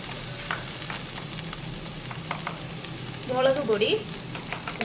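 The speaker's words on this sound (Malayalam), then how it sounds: "ഇനി ഈ മഞ്ഞൾപ്പൊടി ഒന്ന് ഇട്ടിട്ട് അതൊന്ന് വഴറ്റണം" Turmeric powder sautéing in oil in a pan for chicken curry, a steady close sizzle and fry with a brief burst of stirring and scraping near the end, no voices.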